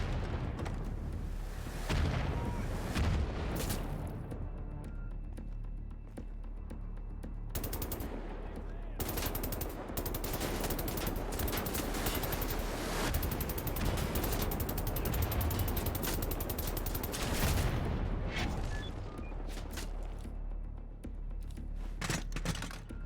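Gunfire in Wolfenstein: The New Order, with a shotgun among rapid, dense bursts of shots and explosions that keep up almost without a break, loud and close, with occasional talk underneath.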